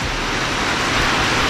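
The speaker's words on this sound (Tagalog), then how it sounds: "Kasi malakas ang ulan." Heavy rain falls on a roof, a loud, dense, continuous hiss and roar throughout, close and steady with no other sounds.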